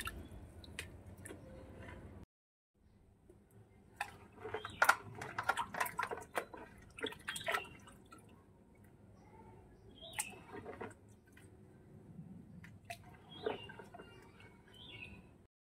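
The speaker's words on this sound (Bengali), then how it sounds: "আলু ধোয়া কমপ্লিট হয়ে গেছে" Potatoes are washed by hand in water, giving soft irregular splashes, squishes and drips at close range, with a brief silent gap early on and no talk.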